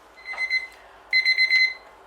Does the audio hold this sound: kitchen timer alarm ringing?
yes